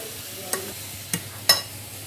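Chicken steak and green coriander stirred in a hot pan over a soft sizzle, with three sharp utensil clinks against the pan, close and brief.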